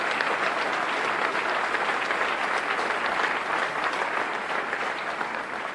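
Audience applause fills a hall at a mayor's State of the City address in Milwaukee, a dense, steady clapping from a large crowd sustained throughout without speech.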